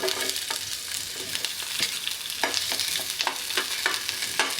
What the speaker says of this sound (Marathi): आता आपण ह्याच पॅनमध्ये थोडंसं तेल घालूया अगदी थोडंसं आणि मग आपण त्याच्यात कांदा परतून घ्यायचा आहे